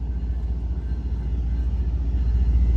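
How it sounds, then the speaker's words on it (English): A CSX freight train hauled by three CW44AC locomotives passes the Greenville yard, giving a heavy, steady low rumble that builds slightly. It sounds close, with no voices over it. "First one out of Greenville I seen with 3 locomotives on it."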